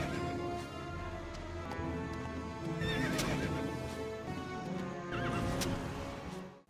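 Inferno horses in the Heroes 5 strategy game neigh and whinny over a steady clatter of hooves, with a game music bed underneath and no talk.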